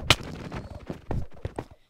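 Automatic gunfire in a video game, a quick irregular string of sharp shots, some close and punchy and others softer, scattered across about two seconds with no talking over them.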